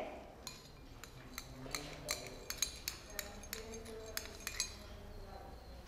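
A glass container of water with a few drops of tincture of iodine is shaken, giving a series of light, irregular glassy clinks and rattles at close range.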